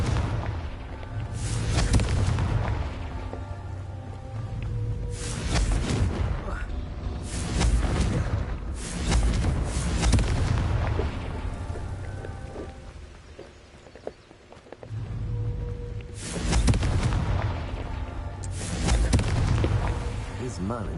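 Confringo spell blasts in Hogwarts Legacy, heard as several loud, deep booming explosions in bursts across the clip, each a broadband thump with a rumbling tail, set against continuous game ambience and music.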